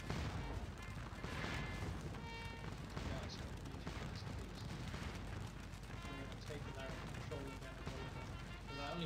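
Continuous cannon and musket fire in the Scourge of War battle game, dense rumbling volleys and booms throughout, with someone talking over the battle noise.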